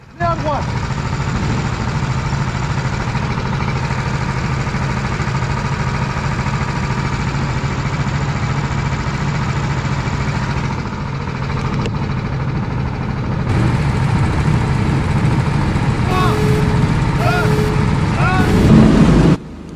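A racing kart's engine drones loudly and steadily at the start of a NARK race at Challans, with a continuous buzzing tone that shifts slightly near the end.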